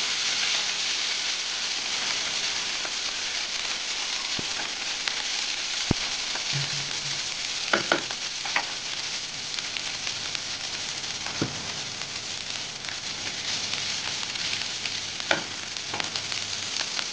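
Green chillies and ginger fry in a pan with a steady, close sizzle that runs the whole time, broken by a few sharp clicks and stirring taps, with no one talking.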